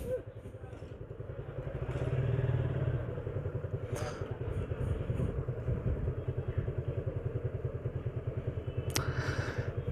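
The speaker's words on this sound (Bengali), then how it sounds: "ইয়াল্লাহ কি জ্যামে পড়লাম" Congested city street traffic in Bangladesh with motorcycle engines idling and revving at close range alongside cars, a steady rumbling drone with clattering pulses, a louder swell early on and a brief horn-like burst near the end.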